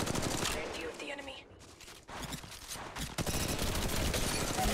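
Rapid gunfire bursts in the mobile battle-royale shooter Apex Legends Mobile, loud and dense with short gaps between volleys, with a voice speaking over the shooting.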